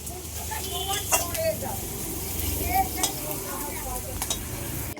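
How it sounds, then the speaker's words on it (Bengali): Whole spices frying in oil in a pan for a Bengali fish curry, a soft continuous sizzle with scraping stirs and light clinks of utensil on metal, steady and close throughout. "মশলাগুলো সব গোটা ভেজে নিয়েছে"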